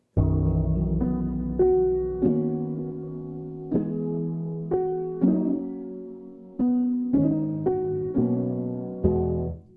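Keys played through a Quad Cortex pitch-down effect: a sequence of sustained, lowered chords struck roughly every second, each decaying with a rich, slightly artificial tone, clean and alone.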